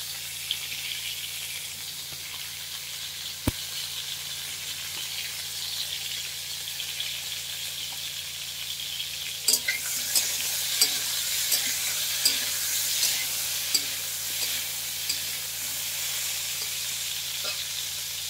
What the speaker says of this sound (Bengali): আমি এই যে পটল আর আলুকে ভালো করে তেল দিয়ে ভেজে নেব